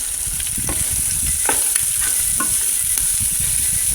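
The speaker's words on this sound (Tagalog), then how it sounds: "Tapos pwede na natin ilagay dito yung bawang sibuyas." Garlic and onion, a whole head of garlic with one and a half onions, sizzling steadily in a pan at a constant close level, with a few brief stir scrapes over the frying hiss.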